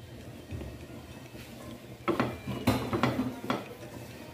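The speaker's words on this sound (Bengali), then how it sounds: "এখন ভালো করে মিশিয়ে নিব।" A utensil stirs vermicelli and grated coconut together in a pot, with soft scraping and a few sharp clinks against the metal rim, fairly quiet and close, with no talk.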